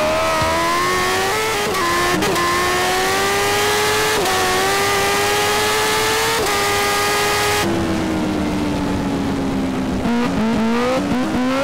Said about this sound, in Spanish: Qué hermoso acelerar en el centro